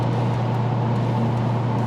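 1966 Canadian Chevelle with a 1700hp 427 LSX engine, a steady deep drone from inside while driving, continuous and even.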